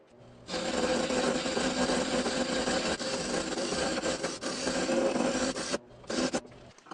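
Metal ball bearing race being turned round on its outside diameter on a lathe, a steady close scraping and grinding of cutting that runs continuously, then cuts off briefly before a short final burst.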